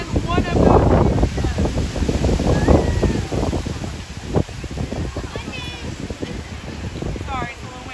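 Heavy gusting wind buffets the microphone in loud, rumbling bursts, easing slightly toward the end, with faint birdsong in the background.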